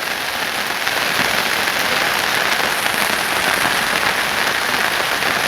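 Heavy rain pouring down onto surfaces, a loud, dense, unbroken roar of drops close by that holds steady throughout without any voices.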